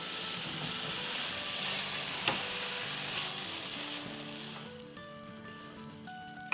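Chicken sizzles steadily while cooking in a pan for a grilled wrap, a loud continuous fry hiss that eases slightly toward the end with a few soft clinks.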